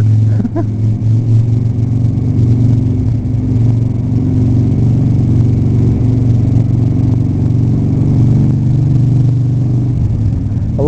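A vehicle engine drones steadily while riding through a tunnel in Gupo, Pusan, Korea, a loud continuous low rumble with enclosed echo throughout.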